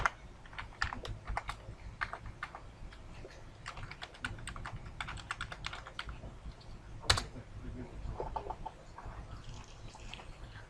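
Rapid, irregular clicks of a computer keyboard as an IP address is typed into a browser for an E Series recorder's web interface, close and fairly quiet, with no one talking.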